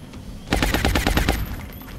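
A suppression shot in the video game XCOM Long War fires a loud, rapid burst of about eight evenly spaced shots lasting roughly a second, close and alone, then cuts off.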